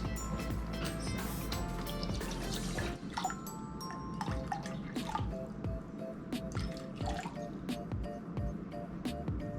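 Distilled water is poured onto a scale for homemade coconut oil laundry soap, a steady close trickle and splashing with drips, while a voice talks over it.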